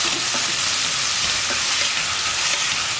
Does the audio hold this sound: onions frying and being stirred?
yes